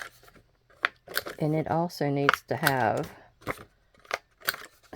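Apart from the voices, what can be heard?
cutting paper to round the corners of a lapbook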